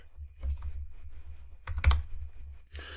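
Computer keyboard typing in a short burst of clicks, with a couple of louder key strikes near the middle, fairly close and alone without talk.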